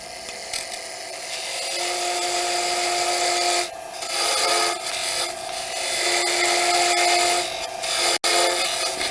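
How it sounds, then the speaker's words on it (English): A wooden wine glass stem spins on a lathe as a tool cuts its tenon, giving a continuous close scraping, rasping drone with steady tones that pauses briefly and resumes. "cut this down for the tenon to glue into the base"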